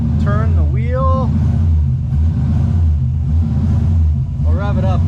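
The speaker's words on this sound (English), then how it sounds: "I'll rev it up. It sounds bad, but I can rev it up." An LS-swapped 1992 Nissan 240SX S13's engine runs with a steady, loud, low rumble throughout, under a voice talking over it.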